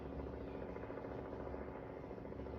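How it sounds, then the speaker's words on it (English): A helicopter passes overhead, its steady rotor drone filling the background at a constant, moderately loud level with no other distinct sounds. "That dang helicopter, y'all."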